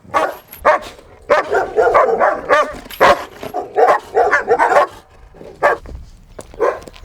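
Dogs bark in quick, loud, irregular bursts close at hand, with brief gaps and a few yips between volleys.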